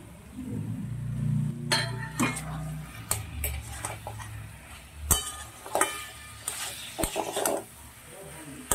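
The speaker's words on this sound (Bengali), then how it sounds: "এবারে আরেকটু ভালো করে এটাকে মশলাটা খুব ভালো মতো কপি আর মটরশুঁটির সঙ্গে মিশিয়ে নেব" A spoon or spatula scrapes and clinks against a pan as cauliflower, peas and spices are stirred together for a vegetarian cauliflower and potato curry. The clatters come close and irregular, with quiet gaps between them.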